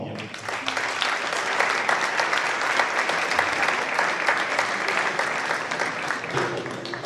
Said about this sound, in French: Merci d'applaudir, Yang Wang.